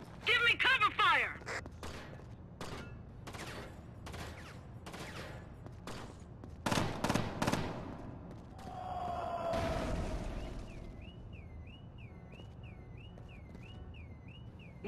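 Gunfire in the video game Rainbow Six Lockdown: rapid bursts of shots crack in quick succession, then a rumbling blast and a repeating electronic beep as game voices call out.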